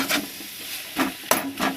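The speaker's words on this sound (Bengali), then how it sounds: "দেখুন আমি এইভাবে মশলা দিয়ে নাড়তে থাকবো" Fish and boiled potato being stirred with spices in a pan, a few scraping strokes and light clinks of a utensil over a faint sizzle, close by.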